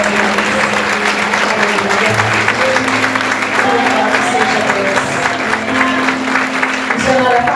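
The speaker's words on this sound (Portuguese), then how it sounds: "Aplauda Jesus." A church congregation applauds loudly and steadily at an anniversary service, the clapping merging with voices and tonal music or singing underneath for the whole stretch.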